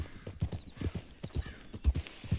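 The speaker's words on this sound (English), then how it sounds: "Oh, you can just gallop automatically." A horse gallops in Red Dead Redemption 2, its hoofbeats close and steady in a quick, rolling rhythm that runs through the whole stretch with no talk.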